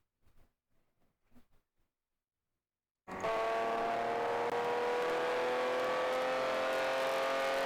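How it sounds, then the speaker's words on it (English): A ChampCar endurance race car accelerating at Gingerman Raceway: after a few seconds of near silence with faint scattered sounds, a loud engine cuts in abruptly and drones steadily and close for the rest. "Nice clean upshifts there."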